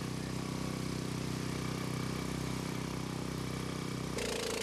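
A motor pump drains flood water in a dark, powerless alley after a landslide, running as a steady, unbroken mid-pitched engine hum with a brief tonal shift near the end.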